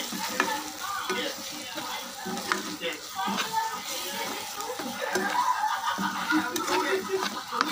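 Chopped radish for chutney roasts in a pan with chilli powder, giving a steady close sizzle broken by repeated scraping stirs throughout.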